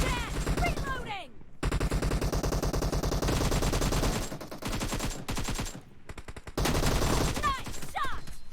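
Rapid automatic gunfire from a PUBG Mobile team deathmatch, loud and dense bursts with brief gaps, overlapping shots and game effects, with no speech.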